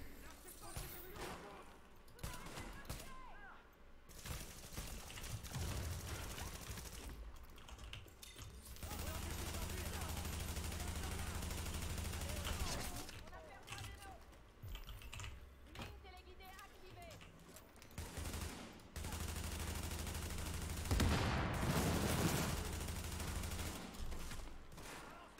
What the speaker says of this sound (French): On va passer sur des petites balles explo.